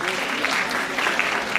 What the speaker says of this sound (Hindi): Gen Alpha के लिए ताली बजाओ please everyone.